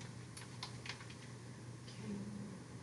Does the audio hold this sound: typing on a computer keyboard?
yes